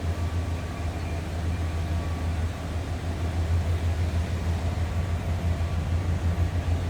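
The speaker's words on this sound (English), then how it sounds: "Sounds like a stock 5-liter from a 90 F-150." Stock 5-liter engine of a 1990 Ford F-150 XLT Lariat 4x4 pickup running at a steady idle, a continuous low rumble with even broadband noise and no talk.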